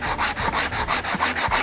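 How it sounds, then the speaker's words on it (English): Rhythmic scraping of coarse sandpaper on wood, smoothing out saw marks, about eight steady back-and-forth strokes, close and fairly loud with no voices. "you might spend half an hour sanding this"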